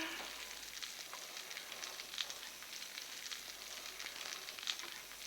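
Little cakes frying in a hot pan on a stove, a soft, steady crackling sizzle with faint pops, quiet and continuous with no voices.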